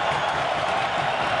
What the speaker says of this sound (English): That's the first thing the Montreal fans have had to cheer about.